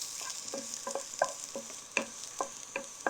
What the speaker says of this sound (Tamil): இந்த நெய்யிலே நல்லா வதக்கணும்.